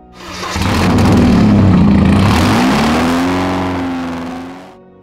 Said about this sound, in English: it's a very unique sound of the 944 unmuffled cars